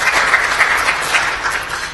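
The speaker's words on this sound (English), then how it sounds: "we'll have a round of applause for Giovanni." Audience applause at a marketing session panel, a dense steady wash of clapping heard up close for two seconds with no talk over it.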